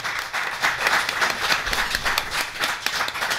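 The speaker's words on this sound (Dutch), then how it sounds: "Geef die alvast een heel hartelijk applaus." Audience applause for a panel at a textile talk event, a dense, steady clapping from a full room that holds at an even level throughout with no voices over it.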